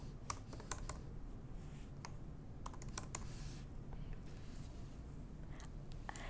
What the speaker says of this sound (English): To set up an email alert, you type in the keyword or phrase which you would like to include,